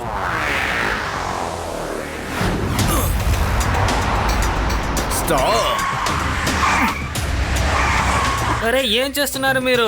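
A car brakes hard and skids to a stop, a loud tire screech and engine rush running several seconds in the foreground, while someone shouts over it.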